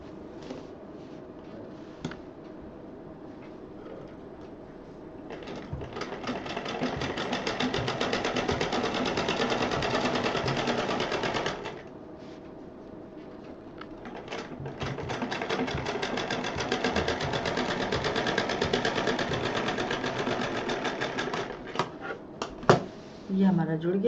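A sewing machine stitches the lining of a handmade purse in two long runs, a rapid close mechanical whirring that stops and restarts, with a pause and handling noises between.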